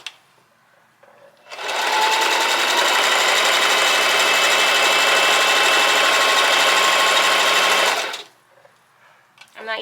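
A Singer Heavy Duty sewing machine runs a straight stitch in one steady, loud burst of about six seconds, starting and stopping abruptly, with quiet handling noise before and after.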